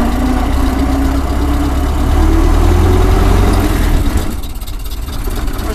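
A stock 1913 Ford Model T engine runs in a dark garage, a loud steady low chugging idle with a slight rise in pitch, then easing back and settling lower near the end.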